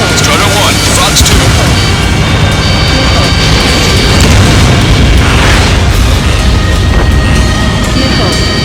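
Missile explosions in the Ace Combat 7 video game: loud, rolling booms and crashing blasts layered over roaring jet noise, with voices speaking through the barrage.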